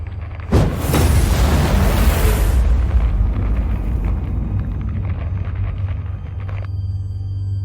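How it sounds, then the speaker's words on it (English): A building blowing up in the Poppy Playtime video game: a sudden loud boom followed by a sustained deep rumble and roaring debris that slowly fades, with no talking. "it looks like the place is going to explode"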